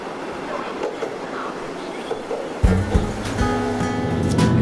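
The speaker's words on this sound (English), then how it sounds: "We're headed to Hualien, so we're taking what's supposed to be the most spectacular train ride in Taiwan." A train on the scenic route to Hualien, Taiwan, rumbling steadily with a low hum, growing louder and more mechanical midway as carriage noise and rail clatter rise, heard from inside.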